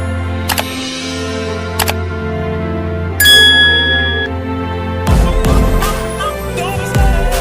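A bright notification bell ding rings out once, clear and tonal with a ringing tail, between brief clicks and under a bed of music that swells louder toward the end.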